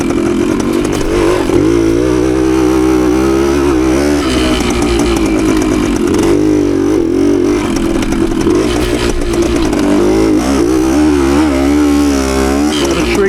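A 52-year-old Suzuki TS185 two-stroke motorcycle ridden along a trail, its engine buzzing loud and close, rising and falling in pitch continuously as the rider works the throttle.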